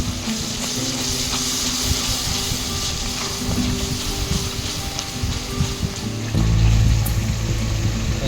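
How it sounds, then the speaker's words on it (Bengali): Sour yogurt goes into sizzling masala in a pan while dahi tilapia is being cooked, with steady frying crackle and hiss throughout and a louder burst of sizzle near the end. "মশলা রেডি হয়ে গেছে, এবার এর মধ্যে টক দই দিয়ে দেবো"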